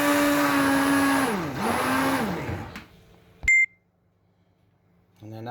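A blender whirs loudly as it purees butternut squash soup, its motor pitch dipping twice under load before cutting off. A short electronic beep follows after a quiet pause, and faint sounds return at the very end.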